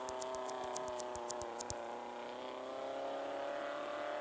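A modified Tofaş Şahin in a driving video game accelerates with a steady, droning engine note, accompanied early on by a quick run of sharp clicking ticks that then stop.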